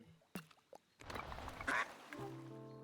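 Ducks in the cozy building game Tiny Glade give a few faint quacks over soft water splashing and gentle game ambience, with no talking.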